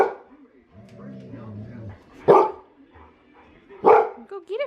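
A puppy gives two sharp, loud barks a couple of seconds apart, with softer whines and yips between, while a person talks nearby.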